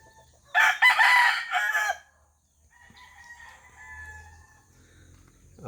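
Young stag roosters crow loudly and nearby in one long call, then cluck softly and intermittently in a quiet backyard poultry setting.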